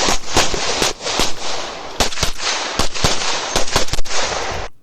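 Pistol shots crack in quick bursts at a USPSA practical shooting match, close and loud, with tight splits between rounds and short pauses between strings.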